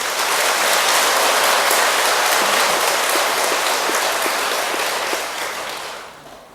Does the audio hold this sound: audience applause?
yes